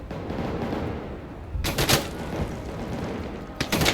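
Gunfire in a Thai-language shooter video game: a low rumbling background broken by two sharp bursts of shots, one in the middle and one at the end, with no speech.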